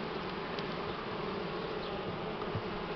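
Buckfast honey bees buzzing over hive frames during spring colony expansion, a dense, steady close-up hum with no voices.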